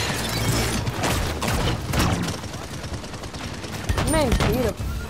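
Gunshots in a video game, bursts of rapid gunfire and booms, loud and close, with a player's voice shouting over parts of it.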